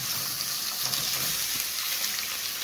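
A camel tongue hits hot white vegetable oil in a pan, giving a loud, steady broadband sizzle that holds evenly throughout without pause.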